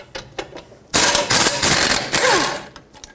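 A power tool rattles loose the two 18mm bolts holding the rear caliper bracket on the knuckle of a 2008–2020 Dodge Grand Caravan. A few faint clicks come first, then a loud, sustained, near burst of hammering.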